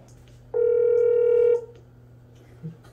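A single steady telephone tone sounds for about a second as a call is connected, clear and fairly loud, followed by a faint click and low room noise.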